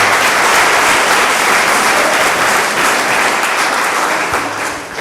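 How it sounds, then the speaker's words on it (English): An audience at an ocean awards ceremony applauds for the honored ocean champions. The clapping is steady, dense and loud, then begins to fade toward the end. "How about one more round of applause for all three of our ocean champions?"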